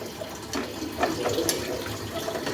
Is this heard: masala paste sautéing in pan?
no